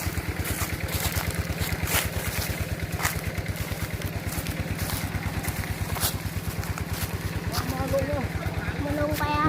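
An engine-driven pump draining a fish pond chugs with a steady, fast rhythmic pulse close by, while people talk quietly in the background.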